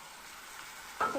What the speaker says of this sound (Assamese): এতিয়া অকণমান ভাজি ল'ম